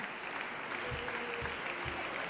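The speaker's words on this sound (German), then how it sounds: "Applaus kommt rein." Applause fading in on a choir recording, steady broadband clapping at moderate level with a few soft low thumps, no voices over it.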